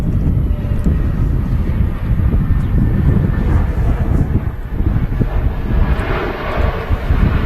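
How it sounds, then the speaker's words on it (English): An EasyJet airliner touches down at Manchester Airport after a short flight from Amsterdam, a loud rumbling jet roar mixed with gusty wind buffeting the microphone throughout. "And there's EasyJet just touching down from Amsterdam, short hop of 304 miles, 57-minute flight."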